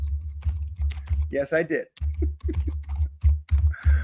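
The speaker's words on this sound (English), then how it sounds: "Yeah, I know I type loud." Loud typing on a computer keyboard, with fast, sharp, close-up key clacks in an irregular stream, while a person talks briefly over it.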